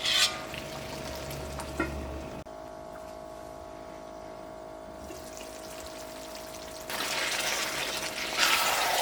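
Chicken roast cooking in a pan over a medium flame, a steady soft sizzle and bubbling with a faint constant hum, dropping quieter for a few seconds before the frying noise swells back up, no voices.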